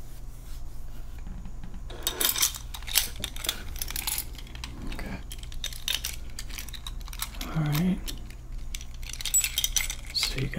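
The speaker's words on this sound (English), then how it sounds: "Let me see your keys." A bunch of house keys on a ring jingles and clinks close up in a quiet room, in a few bursts of metallic rattling with soft handling and rubbing sounds between them.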